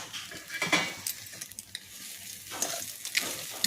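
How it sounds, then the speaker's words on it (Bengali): Potatoes and peanuts fry in a pan, a continuous sizzle broken by scraping stirs and the clink of a utensil against the pan, close and fairly loud, with no talk. "আর একটুক্ষণ আলুটাকে আর একটু ভাজা ভাজা করতে হবে"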